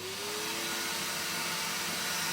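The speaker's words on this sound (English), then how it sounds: "and I'm going to hoover that baffle plate up." A vacuum cleaner runs loud and steady, hoovering the baffle plate of a Charnwood wood-burning stove, its motor whine rising briefly at the start and then holding a constant roar with no talking.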